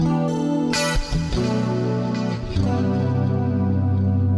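Strummed electric guitar through effects set for an acoustic-like tone: bright, with a shimmer of chorus and echo, chords ringing and sustaining, close and moderately loud.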